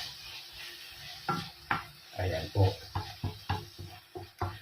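Tomatoes and onions sauté in a pan, heard as soft sizzling with repeated stirring scrapes and taps in an irregular rhythm, while someone speaks briefly.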